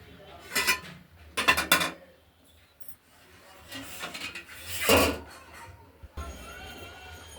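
Cookware and a pot lid clatter and scrape while a simmering fish curry of live-cut catla with potato, tomato and coriander is covered, in several bursts of clinks and rubbing of varying loudness with no talk.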